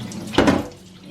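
Tap water splashes briefly as saltfish is rinsed under the running faucet: one short, close wet gush that swells and then fades into a quiet hiss.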